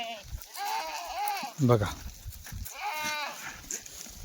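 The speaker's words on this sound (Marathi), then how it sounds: "सगळ्या ताकदीच्या शेळ्या एकदम शेळ्या हो" Kathiawadi goats on a goat seller's farm bleat several times, with wavering, nasal calls close to the listener, one louder and harsher than the rest, while someone talks between and over them.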